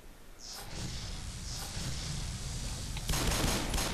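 Gunfire in the Half-Life / Black Mesa video game crackles through a noisy game mix, with a louder burst of shots toward the end and no clear speech.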